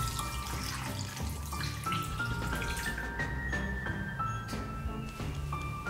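Clear water poured into a pot over chicken pieces, a steady close splashing and gurgling that rises in pitch as the pot fills.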